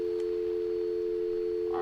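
A steady, loud, continuous telephone dial tone from a video game after a caller hangs up, unbroken throughout with no voices.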